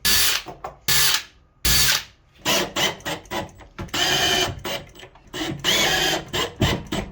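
A power drill whirs in repeated bursts, short pulses and longer runs, as screws fixing a Yale night latch are driven into a door at close range with pauses between.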